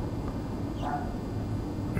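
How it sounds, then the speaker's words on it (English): Dogs bark in the distance within a horror video game, a brief faint yelp or two rising over a constant dense layer of noisy ambience from an alley-like setting. "Barking dogs."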